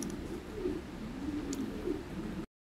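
Imported Lahori pigeons of a 2019 bloodline coo in soft, rolling low-pitched phrases, steady and close, with no talking over them.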